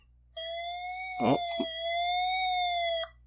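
Electronic siren sound from a city-building video game, a steady synthetic wailing tone held for about three seconds; a voice briefly exclaims over the middle.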